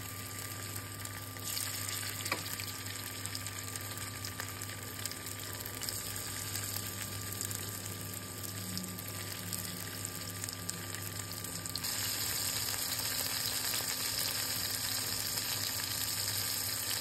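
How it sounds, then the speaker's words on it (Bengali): Topse fish fry in mustard oil with a steady, hissing sizzle that stays even and fairly soft throughout, swelling slightly louder near the end, with no talking. "এরপরে আমি সরিষার তেলে মাছটাকে খুব ভালো করে লাল লাল করে ভেজে নিব।"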